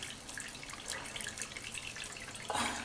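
Water runs from a bathroom tap into a sink during morning face washing, a steady hissing splash with brief drips and louder gushes near the end, no speech.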